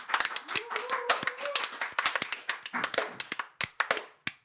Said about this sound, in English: would we describe that as an Icelandic football clap? Yeah, a Viking clap.